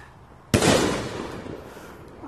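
Neighborhood Fourth of July fireworks go off in one sharp, loud burst that rings out and slowly decays into a long crackling rumble, with no one talking.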